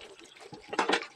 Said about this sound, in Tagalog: Lagay lang tayo ng tubig dito sa ating ano.